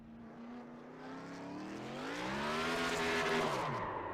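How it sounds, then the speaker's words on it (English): Race car burnouts in the iRacing game at Mount Panorama: a continuous engine roar rises and swells with revving and tire squeal, loud and sustained for several seconds before cutting off. "Here's his burnouts"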